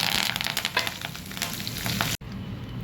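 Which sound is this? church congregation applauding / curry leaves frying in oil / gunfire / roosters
curry leaves frying in oil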